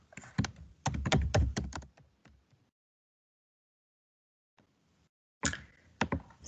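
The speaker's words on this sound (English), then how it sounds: "Let's just type that in so we can remember." Typing on a computer keyboard, close up: quick bursts of clattering keystrokes, a long silent pause, then another short flurry of keys.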